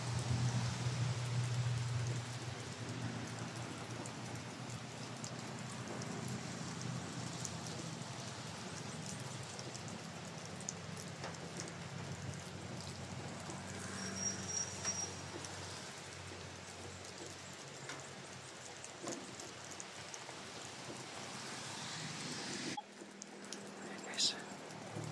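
Heavy rain pours down in a steady hiss of drops on surfaces, continuous and fairly close, with faint voices now and then and a brief shift near the end.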